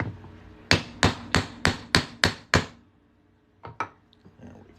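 Seven sharp, evenly spaced hammer blows drive a half-inch center punch into a Susan B Anthony dollar coin, loud and close, followed after a pause by two lighter taps.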